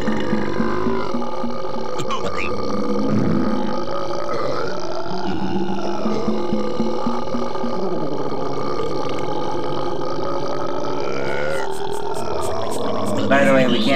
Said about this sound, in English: I've heard this said as the longest, ranchiest burp ever